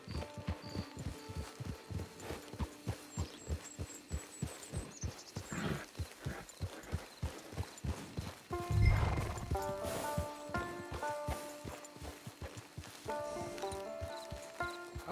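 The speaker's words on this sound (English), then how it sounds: "It's your horse." Rhythmic horse hooves clip-clop steadily alongside game music in Red Dead Redemption 2 Online, with a loud horse neigh breaking in midway before the trotting continues.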